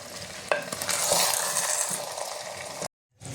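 Chicken being stirred with Kashmiri red chili powder in a hot pan in a Bengali-style handi chicken, a steady sizzle with a sharp scrape and spoon clatter, ending abruptly in a brief silence.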